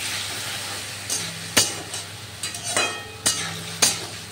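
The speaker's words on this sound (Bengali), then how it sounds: "খুব সুন্দর টমেটো আলু সুন্দর করে কষা হয়েছে।" Tomato, potato and green chili paste frying in a pan, a soft continuous sizzle broken by repeated scraping strokes of a stirring spatula at irregular intervals, close and moderately loud, with no talking.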